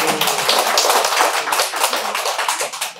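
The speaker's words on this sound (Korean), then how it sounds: "박수 한번." Clapping from the audience at a book forum for licensed real estate agents, loud, close and continuous throughout, without talk over it.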